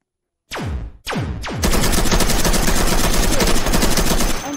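Gunfire in a Roblox game: two separate loud shots, each ringing out, then a dense, rapid automatic burst that runs steadily for several seconds, close and loud with no talking.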